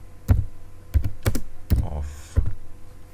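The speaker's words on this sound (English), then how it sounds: "So we simply just type out what we want." Typing on a computer keyboard while writing C++ code: about five distinct, hollow keystroke thumps land at uneven intervals over a low background hum.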